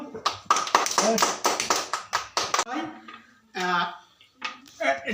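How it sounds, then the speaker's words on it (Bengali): Hand clapping, a quick burst of about ten sharp claps from a few people up close, then talking and laughter with a few more scattered claps. "হাততালি মারো"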